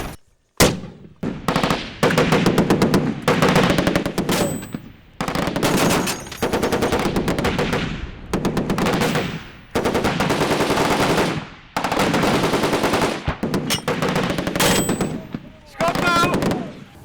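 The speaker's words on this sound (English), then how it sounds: "Both Bulldogs were firing with 50 cal and their GPMG." Two Bulldog armoured vehicles fire .50 cal heavy machine guns and GPMGs, loud rapid bursts of gunfire several seconds long separated by short pauses, repeating again and again.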